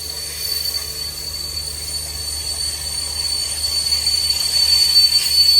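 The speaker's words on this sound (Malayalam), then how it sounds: "Karnataka tourism development corporation operate ചെയ്യുന്ന ഒരു ട്രെയിനാണ് കേട്ടോ, ഗോൾഡൻ ചാരിയറ്റ്" The Golden Chariot, a Karnataka Tourism Development Corporation luxury tourist train, passes at Kochi, its wheels squealing with a steady high whine over a rumbling rail drone that grows louder toward the end.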